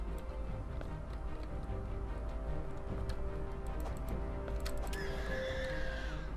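A voice imitating a horse whinny rises near the end over steady noisy Starbound gameplay background, with faint clip-clop and clutter throughout.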